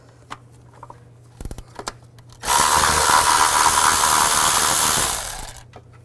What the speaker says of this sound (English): use a 12 millimeter socket to take this bolt out